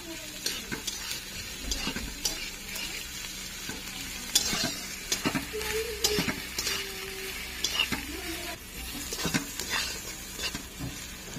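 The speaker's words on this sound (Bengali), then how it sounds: "পেঁয়াজটা ভালো করে ভেজে নেব।" Chopped onions frying in a pan for a potol chingri curry, a soft steady sizzle punctuated by frequent spatula scrapes and clinks against the metal, close but fairly quiet, with no voices.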